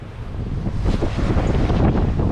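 Strong wind buffets the microphone aboard a sailing yacht under mainsail off the coast of Brazil, a loud, steady broadband roar with gusting swells and faint water wash beneath, no voices.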